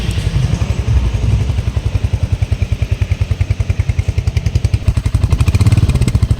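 Royal Enfield Hunter 350 motorcycle, 2025 update, idling close by, a loud steady single-cylinder thump with a fast even exhaust beat and mechanical clatter, rising slightly near the end.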